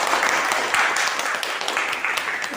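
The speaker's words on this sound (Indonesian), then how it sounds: "Tepuk tangan dong." Classroom applause during a school lesson on Islamic funeral rites, a steady wash of clapping from many students, fairly close and continuous for a couple of seconds.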